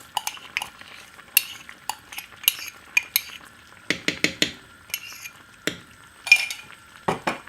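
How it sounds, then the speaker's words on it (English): Washed basmati rice going into a pot and being stirred, a series of sharp metallic clinks and scrapes of a utensil against the pot at an uneven rhythm, close and fairly quiet between strikes. "now I'm gonna add my rice to it just like this"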